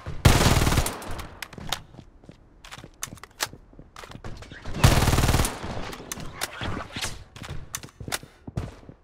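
Gunfire in the shooter Blood Strike during a ranked battle royale match: two loud sustained bursts of automatic fire separated by scattered single shots and sharp cracks, with sporadic footsteps and thuds between.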